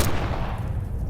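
A single loud, sharp burst of gunfire from a video game firefight, with a booming report that quickly fades.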